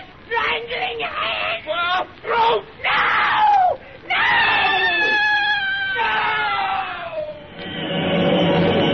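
A woman screams in a 1934 horror radio drama, long piercing shrieks broken by brief gaps, loud and close, with other anguished voices and crying mixed in.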